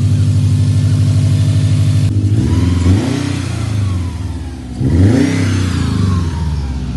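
A 2019 Subaru WRX STI engine runs loud and close, holding a steady idle before rising in two distinct revs around the middle and later part, each climbing and falling back.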